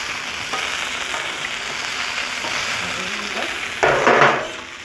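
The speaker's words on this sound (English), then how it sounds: "instead of putting these raw onions on here, let's saute them up" Raw onions sauté on a hot Blackstone griddle with a steady close sizzle, while metal spatulas scrape and clatter against the flat top near the end.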